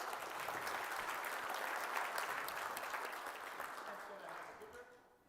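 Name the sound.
audience applause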